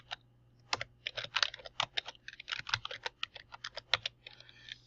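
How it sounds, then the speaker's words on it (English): Quick, irregular clicking of keys on a computer keyboard while text is typed, close and clear against a quiet room hum, in bursts with short pauses. "And type in that text"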